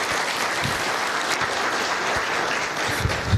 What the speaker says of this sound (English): Just warm up your hands and let's just clap for nothing.